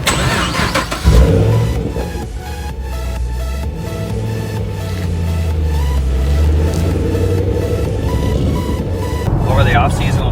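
A car engine starts abruptly after a second of rustle, then settles into a steady mid-pitched idle with slowly shifting tone and a few light revs, close and loud, ahead of a long cross-country drive.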